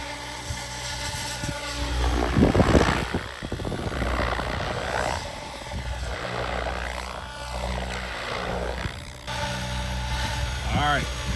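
Goosky RS6 RC helicopter hovering steadily in wind, its rotor whine and motor hum continuous and fairly loud, with someone talking over it throughout.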